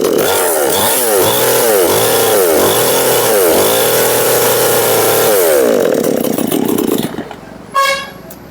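A two-stroke petrol chainsaw, just started with a pull of the choke, runs loud and close in a wavering buzz with rhythmic revving surges, then cuts out abruptly near the end.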